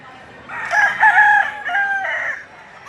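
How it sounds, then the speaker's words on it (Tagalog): Roosters crow loudly and close by at a poultry market in Padre Garcia, Batangas, several drawn-out calls in quick succession over a faint murmur of background noise. "mga nakalatag dito mga manok"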